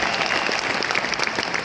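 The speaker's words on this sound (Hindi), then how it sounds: "तो एक बार जोरदार तालियां" Audience applause at an Indian stadium event, a steady dense wash of many hands clapping for under two seconds, fairly loud and unbroken with no talk over it.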